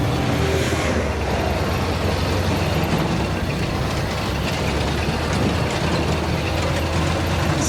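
A worn 1930 Ford Model A coupe, barn find with a loose front end, rolling onto gravel: a loud, continuous mechanical rattle and clatter of the old car with crunching road noise, steady throughout.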